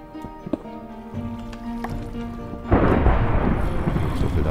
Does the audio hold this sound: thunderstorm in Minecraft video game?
yes